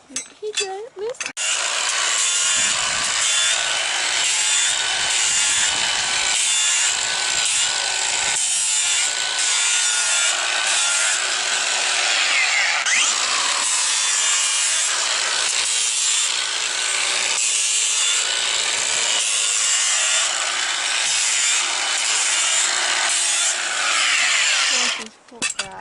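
A powered grinder trims a horse's hoof, a continuous loud abrasive rasping and whirring that runs steadily for over twenty seconds at close range and dips briefly in places.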